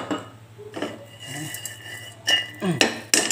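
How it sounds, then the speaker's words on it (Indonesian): Candlenuts being dry-roasted in a pan: scattered light clinks and knocks of nuts and utensil against the metal, close and irregular, with brief pauses between bursts and no talk. "Kemirinya kita sangrai terlebih dahulu ya."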